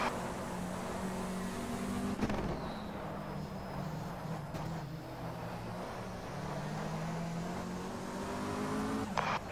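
A race car in a racing simulator at Nogaro passes on the left while an onboard engine drones steadily, with the passing car's engine swelling and fading around the near, sustained whine.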